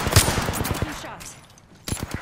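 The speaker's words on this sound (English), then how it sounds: "Two shots." Gunfire in Apex Legends on Kings Canyon: a loud, close burst of rapid shots followed by a brief lull and another sharp shot at the end, with no talk.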